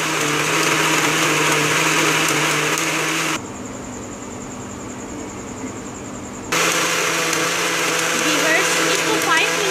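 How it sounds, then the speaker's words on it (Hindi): Electric blender whirring loudly as it blends tamarind, spices and sugar, with a steady high motor drone that drops briefly to a lower pitch mid-run before resuming. "सिंपली मैं इसे ब्लेंड कर लूँगी।"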